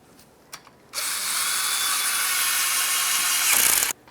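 Ratchet wrench tightening a bolt under the front fender liner of a 2017-2023 GMC Acadia, a few faint clicks followed by a continuous close, dense whirring rasp of about three seconds that cuts off sharply.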